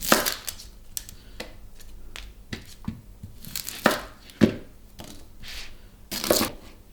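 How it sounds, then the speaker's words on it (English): A knife chops through an onion on a cutting board, irregular crisp cuts and scrapes spaced out over several seconds, close and fairly loud with no talking. "Now you've all seen me cut a fucking onion."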